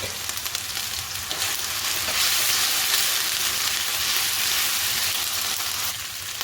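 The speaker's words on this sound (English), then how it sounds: "1 teaspoon of black mustard, 1 teaspoon of fenugreek," Black mustard and fenugreek seeds sizzle in hot oil for an aubergine and lentil dal, a loud, steady crackling hiss that swells slightly midway and holds throughout with no talking.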